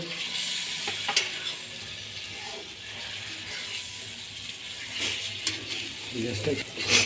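Capsicum pieces frying and being stirred into a mutton curry in a pan, a steady close sizzle broken by scraping spoon strokes and a few clinks, with no talking.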